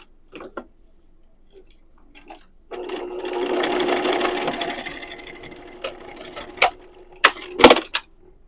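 Sewing machine stitching across fanny pack fabric and back stitching, with a few clicks, then a steady whirring run of several seconds, followed by sharp mechanical clacks and taps.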